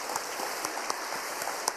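A church congregation at a Wednesday worship service applauds a returning short-term mission team, a faint, distant patter of clapping with a few sharper claps standing out.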